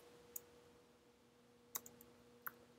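A few faint, sparse clicks from a computer keyboard as a command is typed into a Mac OS X terminal, with only three or four isolated keystrokes over a quiet hum.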